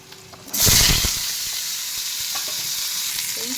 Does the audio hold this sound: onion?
yes